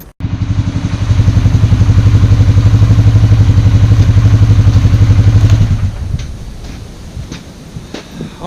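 An ATV, freshly fixed after pulling to one side, revs up loud and close with a steady engine drone for several seconds, then backs off to a lower idle with scattered clatter.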